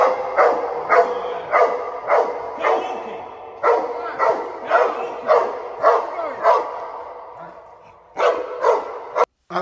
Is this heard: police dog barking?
yes